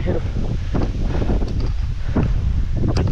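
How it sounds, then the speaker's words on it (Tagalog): Strong wind roars and buffets against the microphone in a steady, loud rush of noise, kicking up dust at an outdoor campsite on a bike-packing trip. "Lakas ng hangin"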